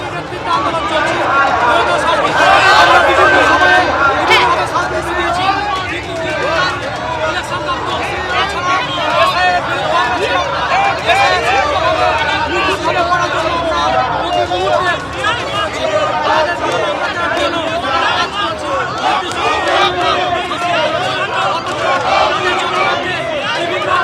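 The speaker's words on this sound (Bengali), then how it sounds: "তারা স্লোগান তুলছেন দেখতে পাচ্ছি" Protesters at a barricade outside an election office during a demonstration by Trinamool-aligned booth-level officers, a dense crowd roaring and shouting slogans with continuous babble and a reporter speaking over the noise.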